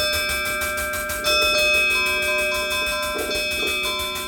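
A sustained, ringing bell tone from a vintage 1984 Yamaha DX7 synthesizer, held over a steady rhythmic chugging train pulse, with no one speaking.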